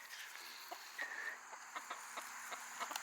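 Chickens in a backyard coop cluck softly in short, scattered calls over a faint, steady background hiss, with no voices.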